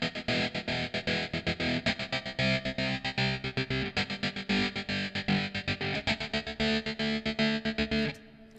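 Electric guitar chopped by a 16th-note step gate in Logic's Step FX, producing a fast, steady stutter of clipped pulses in a repeating one-bar pattern, loud and continuous before cutting off near the end.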